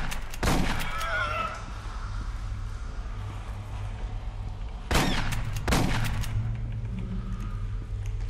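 Shotgun blasts in the video game Aliens: Colonial Marines: one loud booming shot early, then two more close together about four seconds later, each decaying over a low rumbling background hum.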